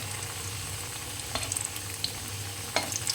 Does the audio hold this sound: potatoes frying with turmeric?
yes